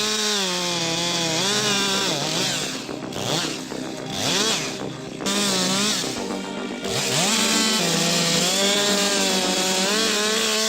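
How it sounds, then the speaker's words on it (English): A chainsaw engine runs loudly and close, revving up and down with several brief dips in pitch before returning to a high, steady whine. "one of the most legendary tools in forestry, the steel chainsaw"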